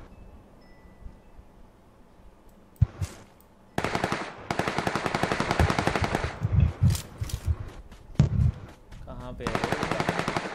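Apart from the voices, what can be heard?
gunfire in the video game PUBG Lite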